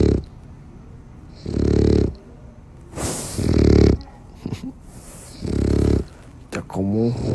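A dog snores loudly and close by in a steady rhythm, four long rasping breaths with quiet pauses between them, while a person speaks softly in the gaps.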